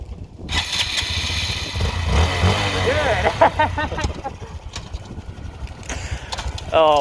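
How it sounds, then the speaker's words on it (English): A Honda Grom motorcycle engine cranks and catches nearby, with short rising revs and sputters, while people talk over it. "Let me see if it starts."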